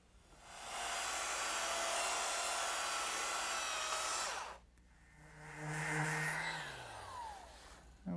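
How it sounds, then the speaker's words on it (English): A power sander smooths a wooden trestle table piece, starting with a steady, loud whining roar of about four seconds, then after a brief pause a second shorter run whose pitch winds down as the motor spins to a stop. "so I'll just dress that up with my sander"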